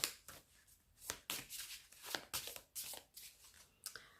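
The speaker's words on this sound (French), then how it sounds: "on va couper le jeu et donc on va choisir allez, celle-ci" A deck of oracle cards is handled and cut, giving soft, quick riffling snaps and taps in uneven bursts, quiet and close with no talk.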